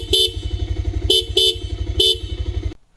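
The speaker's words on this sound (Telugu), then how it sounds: "ఇంకా ఈ బైక్లో డ్యూల్ హార్న్స్ ప్రొవైడ్ చేశారు. సౌండ్ వినడానికి చాలా బాగుంది." Dual horns on a 2026 Bajaj Pulsar 220F motorcycle blare in four loud, close honks, two short and two longer, over the engine's steady, throbbing idle.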